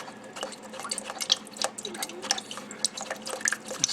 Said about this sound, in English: Splash that water out of there.